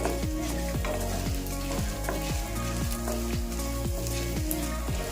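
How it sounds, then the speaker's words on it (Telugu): Coriander seeds, cumin and dry red chillies fry in a pan with a loud, continuous crackling sizzle, while a utensil scrapes and stirs in repeated rhythmic strokes up close. "జీలకర్ర ఎండుమిరపకాయలు కూడా వేసుకొని ఒకసారి మొత్తం ఫ్రై చేసుకోవాలి"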